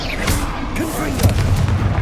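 Confringo blasting spell explosions in Hogwarts Legacy, loud booming bursts with a couple of deep thuds in quick succession amid spell-casting noise.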